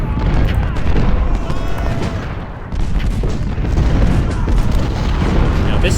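Artillery fires during an American Civil War battle in the Ultimate General Civil War video game: loud, dense booms roll into one another in a continuous rumbling barrage.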